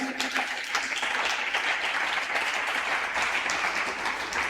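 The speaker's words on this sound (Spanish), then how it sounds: "Le damos un aplauso al Señor" Worshippers in a church give the Lord a round of applause: a sustained, even patter of many clapping hands, heard from some distance and continuing throughout without speech.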